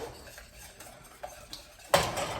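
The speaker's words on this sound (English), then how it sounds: "Make sure you whisk that in." A whisk scraping and clinking in a pot as cheese melts for chicken spinach artichoke dip, soft metallic taps and strokes building to a louder burst of stirring near the end, with no talking.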